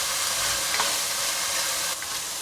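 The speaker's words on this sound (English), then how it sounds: "And I can smell the bacon cooking." Bacon frying in a pan gives a continuous close crackling sizzle, bright and hissy, holding steady with a few louder pops and no speech.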